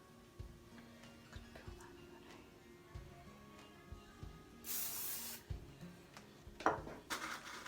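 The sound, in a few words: wax spray being sprayed on hair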